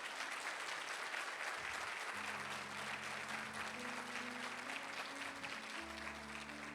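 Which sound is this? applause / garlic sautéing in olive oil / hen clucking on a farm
applause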